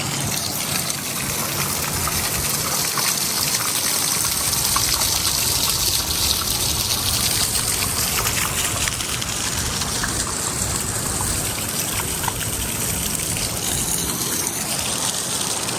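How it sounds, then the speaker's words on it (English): Heavy runoff after a downpour near a casino with the Omaha skyline: a steady, loud rush of gushing water, continuous and broadband throughout, with no voices over it. "I can hear a lot of running water here."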